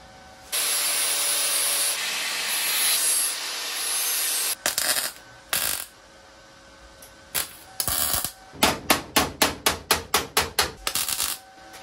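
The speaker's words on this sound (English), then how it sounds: "get that hammer and dolly set out, and give it a good smack if it needs it" A hammer and dolly strike the metal body of a BMW Z3 during a VW Bug body swap. Sanding or rubbing comes first, then a quick series of sharp, close metallic taps in an even rhythm.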